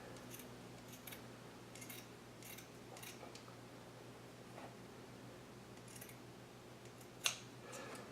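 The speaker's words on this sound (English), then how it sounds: "So that's exactly how I'm cutting it." Scissors snip through a T-shirt being cut into a tank top, a series of crisp close cuts spaced irregularly, ending with one sharper, louder snip, with no one talking.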